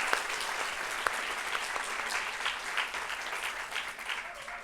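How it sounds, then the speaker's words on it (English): An audience at a nursing school pinning ceremony applauds steadily, a dense crackle of many hands clapping that holds at a moderate level throughout. "give a round of applause for our amazing faculty and staff"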